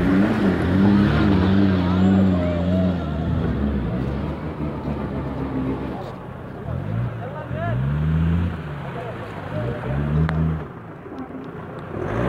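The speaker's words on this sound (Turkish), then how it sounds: "TD5'ler, Ford Puma'lar yarışıyor" Land Rover TD5 and Ford Puma off-road vehicles racing at an off-road event near Alanya, Antalya and Manavgat, with loud, close engines revving and surging in pitch throughout and voices mixed in.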